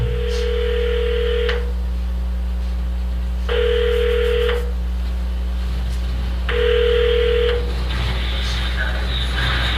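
A telephone line plays three long ringback or dial-type tones at steady intervals, each about a second long, over a constant low hum, with a faint background voice.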